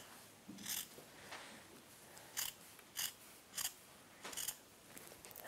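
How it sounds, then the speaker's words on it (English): Scissors trimming the fabric seam allowance on a 1950s halter dress bodice, about seven crisp separate snips at uneven intervals, close and quiet with soft rustling between cuts. "I'm going to start by trimming this top seam allowance"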